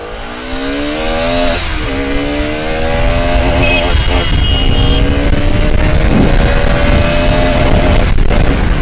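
Several motorcycle engines idle and rev up close at the Dankuni toll plaza, a loud, steady drone with rising and falling pitch that runs the whole time.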